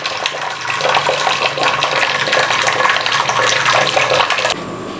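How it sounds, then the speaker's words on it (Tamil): Excess water drains from a pot of cooked red rice in a steady, loud splashing pour that runs for several seconds and then abruptly stops. "ஸோ இப்படி வடித்து கம்ப்ளீட்டாக தண்ணி கடைசி சொட்டு வடிகிற வரைக்கும் இப்படி வடிச்சிடலாம்."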